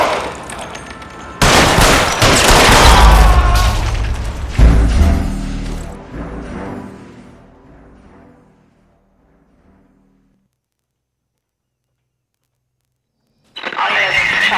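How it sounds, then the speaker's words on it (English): Gunshots in the L.A. Noire video game, a loud, dense volley of rapid fire that fades out into near silence before a sudden loud burst returns at the very end. "All units, shots fired, officer needs help"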